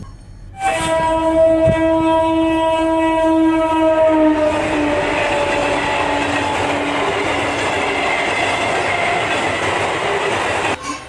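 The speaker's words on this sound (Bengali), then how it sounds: "দুর্নিবার গতিতে আমার দিকে ধেয়ে আসছে একটা মেইন ট্রেন" A loud train horn blares as a train roars close by, its rumbling wheels filling the air and the horn fading into steady rolling noise.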